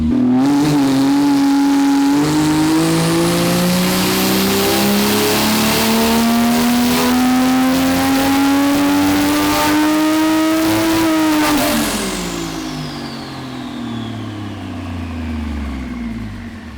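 A tuned Toyota A90 Supra engine on a run climbs in one long, loud, steady rise for about eleven seconds, then drops off sharply and winds down with a fading whine, close and without voices.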